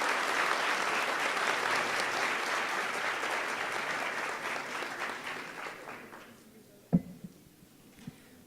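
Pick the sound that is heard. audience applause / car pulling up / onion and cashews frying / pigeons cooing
audience applause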